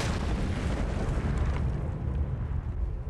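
A C4 charge detonates in the survival game Last Day on Earth, a loud sustained boom with a rumbling blast roar that stays heavy throughout, with no voices.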